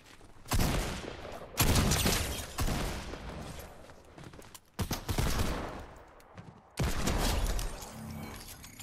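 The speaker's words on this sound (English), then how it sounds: "Ooh, minigun." Minigun fire in Fortnite in several long roaring bursts, loud and close, separated by short pauses.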